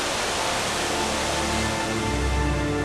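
Roar of Angel Falls plunging into Venezuela's Kerepakupai canyon, a steady, dense, close wash of falling water with a deeper rumble swelling slightly toward the end, no voices.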